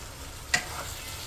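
A splash of water hits a hot pan of frying potato, spinach and mashed tomato, giving one short sharp hiss over a steady low sizzle.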